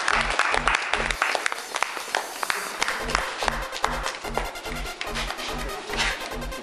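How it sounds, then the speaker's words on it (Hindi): Audience clapping for Ali as he polishes furniture, rhythmic bursts of applause over a steady low beat, with broadband rustle throughout. "अली के लिए तालियां।"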